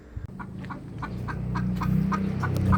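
A hen of the Bulik or Oldline Bruce Sweater chicken breeds clucks close by in a short, rhythmic run of repeated calls that grows slightly louder toward the end.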